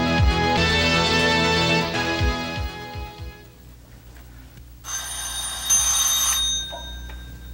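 A telephone rings with a bright, trilling bell in two separate bursts, one at the start and another after a short quiet gap, heard close and clear indoors.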